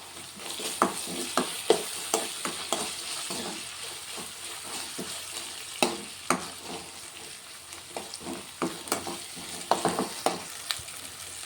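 Broad bean and fenugreek curry with ginger-garlic paste fries in a pan. Frequent spatula scrapes and clinks sound over a steady sizzle, close and clear, with no talking.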